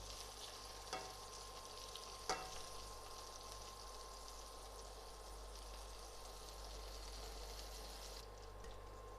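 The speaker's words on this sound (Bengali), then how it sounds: "তবে এটা আমি খুব হালকা করে ফ্রাই করে নেবো, ডিপ করে ফ্রাই করব না।" Ginger and garlic frying lightly in a pan, a steady soft sizzle that runs throughout, broken by a couple of brief clinks from stirring.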